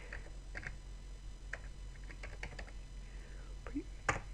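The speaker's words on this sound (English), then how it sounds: "this time we're going to type in prefetch" Soft, faint keystrokes tap irregularly on a computer keyboard in a quiet room over a steady low hum.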